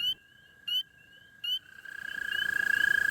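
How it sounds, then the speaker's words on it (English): Spring peeper frogs call in a backyard: three sharp, evenly spaced peeps stand out at first, then a dense chorus swells in and grows steadily louder, with no voices. "sounds of frogs permeated the airwaves once more, and I swear the volume was turned up"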